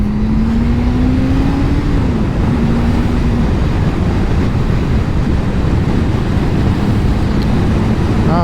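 A Suzuki GSXF600 motorcycle accelerates on a hot-weather ride, its engine droning loud and steady throughout under heavy wind rush, with a rising engine tone that dips briefly mid-pull before climbing again.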